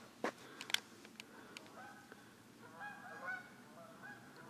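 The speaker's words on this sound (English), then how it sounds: "Oh, and some Canadian geese." Canada geese honk at night outdoors, a few sharp nasal calls early on followed by softer, more distant honking and chatter from the flock, moderately faint against a quiet background.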